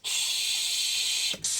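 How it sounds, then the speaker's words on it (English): Static-like white noise sample with no compressor, chopped to quarter notes for an EDM remix in Ableton Live 9, a steady loud broadband hiss that drops out briefly near the end and then resumes. "This is a white noise sample that I cut to quarter notes."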